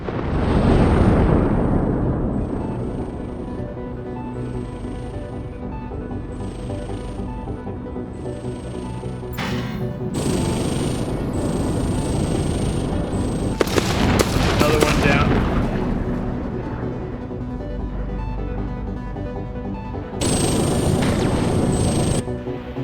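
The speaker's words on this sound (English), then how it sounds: "Yeah, they're firing missiles. We're shooting them down easily." Space battle in the strategy game Endless Space 2: missiles launch and are shot down amid rumbling booms, crackling weapon fire and repeated explosions, loud and sustained, with bright whooshing bursts breaking through.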